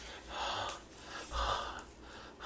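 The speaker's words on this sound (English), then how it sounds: "And then next we hear heavy breathing." Heavy breathing in the 1983 horror film Curtains: two long, loud, raspy breaths, each drawn in and pushed out slowly, close and isolated.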